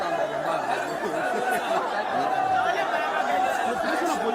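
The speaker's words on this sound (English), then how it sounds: "See the crowd." Dense crowd chatter at a street protest in Nigeria, a steady wash of many overlapping voices with scattered laughter, continuous and fairly close throughout.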